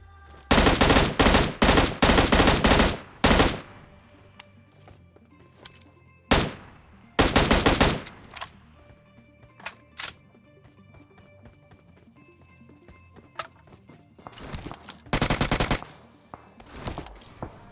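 M16 rifle fire in a shooting video game: loud rapid bursts of automatic gunfire, then a short pause and another burst. Scattered single shots and quieter sounds follow before a final cluster of bursts.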